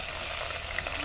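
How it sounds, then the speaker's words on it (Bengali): Chopped onion, chilli, ginger and garlic sizzle steadily in hot oil, a close, even crackle filling the short moment with no pauses. "তেলের মধ্যে দিয়ে দেবো।"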